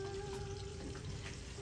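Bacon and onion frying together under a lid in a pot, a steady soft sizzle with faint crackles, heard alone.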